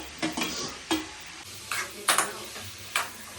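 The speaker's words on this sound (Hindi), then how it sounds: "तो सबसे पहले मैं इसमें डालूंगी छोले, डाल दूंगी आलू भी अच्छे से" Chickpeas and potatoes tipped into a pan and stirred, with a few scraping spoon strokes and light clinks over a soft sizzle, close and fairly quiet.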